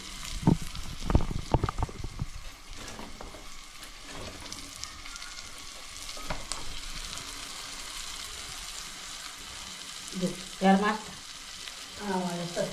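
Clam meat dropped into gravy frying in a pan brings steady, low sizzling and bubbling under scattered clinks and stirring scrapes, with a few louder knocks near the start and the end.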